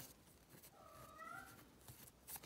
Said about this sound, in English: My cat wants to go outside again.